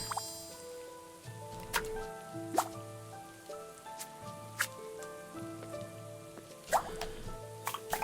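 Water drips in the cooking video game Battle Chef Brigade: scattered bright plinks land at an irregular pace over a soft, layered musical backdrop, with no voices.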